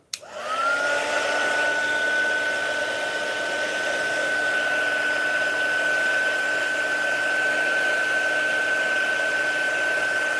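Heat blower drying paint on a leather edge, switched on with a sharp start and then a steady, close whirring hum with a constant tonal whine held for the full stretch.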